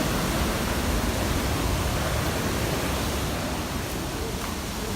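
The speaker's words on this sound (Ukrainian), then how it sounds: "Крутий водоспад, до речі." Mykulyntsi waterfall in Ukraine, a steady broadband roar of falling water that stays constant and fairly loud throughout, with no talk over it.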